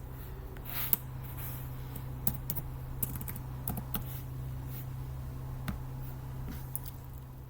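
Soft, irregular taps and clicks on a computer keyboard as a password is typed, quiet and close, with a low steady electrical hum behind the keystrokes.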